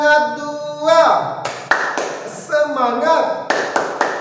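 Students do a rhythmic classroom clap chant called tepuk semangat, a few sharp claps punctuating a strong voice chanting along in a quiet room.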